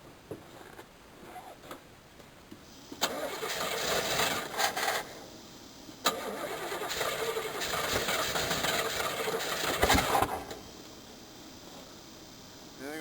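A 1985 Chevrolet Caprice Classic with a carburetor is started cold on New Year's Day. After a quiet start, the starter cranks at about 3 seconds, the engine catches and runs roughly with surges, then is cranked and revved again near 6 seconds.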